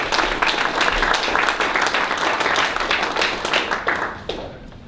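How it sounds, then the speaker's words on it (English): Audience applause at the launch event of a nuisance and harmful algae partnership, a dense steady round of clapping throughout that tails off near the end. "a round of applause for everybody who's been involved in preparing"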